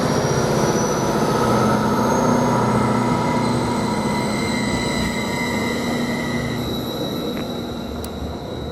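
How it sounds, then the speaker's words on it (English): A passenger train pulls out of Ely railway station, a loud, close, continuous rumble of wheels on rail with sustained high squealing tones that slowly fade as it moves away. "So we get more of this train when it actually departs."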